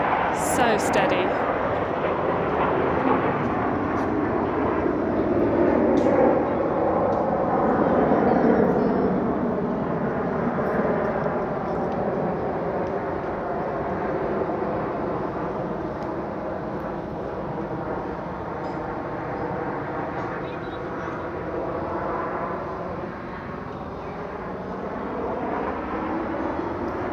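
Aerobatic display jets of the Al Fursan team fly in formation at the UAE National Day airshow in Dubai, a loud sustained roar that swells and fades as they pass, with slowly sweeping tones.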